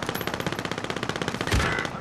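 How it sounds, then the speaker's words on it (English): Rapid automatic gunfire from the Call of Duty Warzone video game rattles in a tight, even burst of about twenty close shots, ending in a heavier blast. "I'm under fire."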